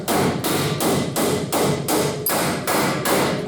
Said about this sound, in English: let's see if we can hammer these up out of there